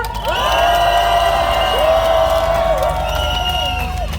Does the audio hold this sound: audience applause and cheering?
yes